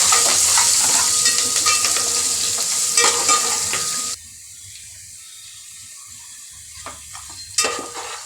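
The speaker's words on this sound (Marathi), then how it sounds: "तर आपला कांदा पण परतलेला आहे." Finely chopped onion with green chillies sautéing in a pan for dal, a loud continuous sizzle with stirring scrapes that cuts off abruptly, followed by quiet background with a faint clink.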